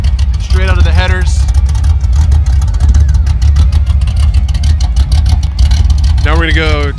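A car engine roars through an open Granatelli electric cutout straight from the headers, a loud, deep, continuous exhaust rumble heard close up, with brief revving and someone speaking over it at the start and end.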